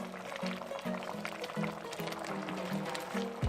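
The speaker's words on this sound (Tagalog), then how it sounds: "naglagay po ako ng tubig sa pan. Just enough to submerge the meat." Water poured into a pan for pork pochero, a continuous filling gurgle with a rising pitch as the pan fills, under faint background music.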